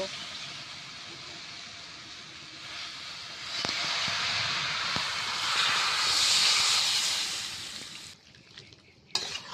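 Water poured into a hot pan of mixed-vegetable curry with pumpkin stems brings up a loud, broad hiss and sizzle that swells midway and then eases, with a few sharp clinks from a utensil.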